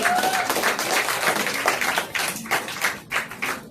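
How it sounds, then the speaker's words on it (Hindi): A crowd of students applauds steadily at an institute anniversary event, many hands clapping in a dense, continuous patter that fades slightly toward the end. "एक बार जोरदार तालियां उनके लिए"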